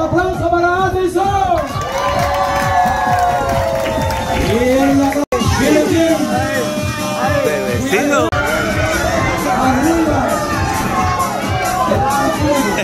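A lively crowd at a child's first birthday party cheers and whoops for the birthday boy, with children shouting over loud music and a busy, noisy room throughout.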